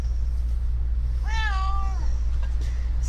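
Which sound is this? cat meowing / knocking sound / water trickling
cat meowing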